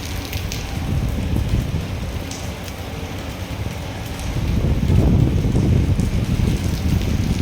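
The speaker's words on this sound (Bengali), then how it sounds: "এখনো বৃষ্টি পড়ে যাচ্ছে" Rain falls steadily at night at a beach resort, a dense close hiss with wind buffeting the microphone, growing heavier toward the end, with no voices.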